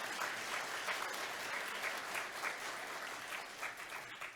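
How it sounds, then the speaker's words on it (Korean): Church congregation at an early-morning service applauding the choir, a full, steady burst of many hands clapping that fills the room and fades slightly toward the end. "다시 한번 박수 보내주시기 바랍니다."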